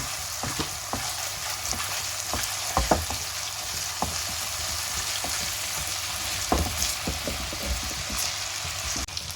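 Steady sizzling of ginger garlic paste frying in a pan until brown, with occasional sharp crackles and pops and a few scraping stirs, moderately close.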